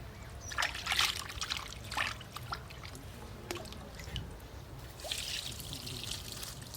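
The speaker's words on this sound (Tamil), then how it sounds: "சிக்கன் மோமோவுக்கு இப்போ சிக்கனை கழுவிடலாம் வாங்க." Raw chicken being washed by hand under running water for momos outdoors in a village kitchen: faint trickling and splashing with soft squishing of the meat, in small uneven bursts.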